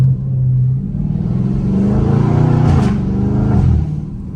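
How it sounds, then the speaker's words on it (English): A Dodge Scat Pack engine rumbles loudly and revs up and down through downshifts and upshifts, the pitch climbing and dropping a few times. "My car sounds so good on the shifts, bro. Downshift and upshift, bro."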